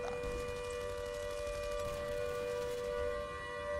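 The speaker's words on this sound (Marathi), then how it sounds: "हवाई हल्ल्याच्या पार्श्वभूमीवर सायरन अलर्ट." A steady civil defense siren holds a sustained tone with strong harmonics, loud and continuous without any rise or fall.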